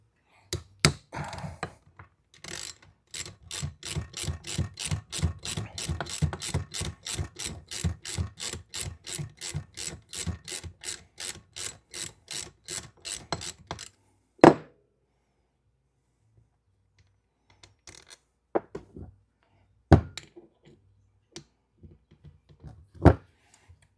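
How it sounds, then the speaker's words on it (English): A ratchet wrench clicks in rapid, even strokes while the rear tensioner comes off a 2006 Harley-Davidson Dyna. After a long run of close clicks there is a metallic clunk, then a few sparse clicks and knocks in a quiet garage. "We're going to remove the rear tensioner."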